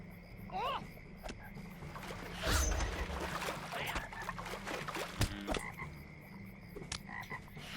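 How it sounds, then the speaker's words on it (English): A toad in Lord of the Rings Online croaks in the Shire, giving a few distinct rising calls early on, set against a soft outdoor game ambience with a voice talking in the background. "Alright, another toad right there."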